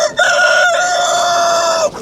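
At a poultry market a rooster crows once, loud and close, in a long drawn-out call lasting nearly two seconds.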